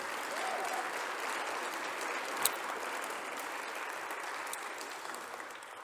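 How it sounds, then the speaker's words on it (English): Audience applause for a moderator at a university discussion event, a sustained wash of many hands clapping, fairly distant and even, with one sharper clap standing out midway. "let's give him a round of applause"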